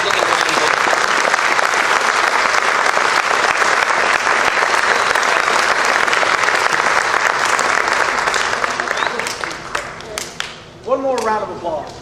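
A large crowd applauds steadily at a school band concert and awards ceremony for about ten seconds, dense and loud, then the clapping thins out and a voice briefly speaks at the end.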